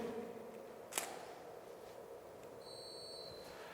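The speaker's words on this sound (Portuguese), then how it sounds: "esse bip nos sinaliza quando que o flash está pronto para disparar" Studio flash units in a photography studio fire with a sharp pop, and soon after a thin, high ready beep sounds for about a second, faint against quiet room tone.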